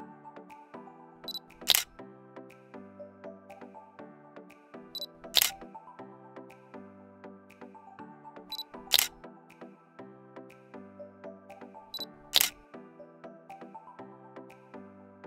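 A Fujifilm GFX100 II medium-format camera fires its shutter four times at even intervals of about 3.5 seconds during long exposures, each release a sharp, close mechanical click set against quiet music.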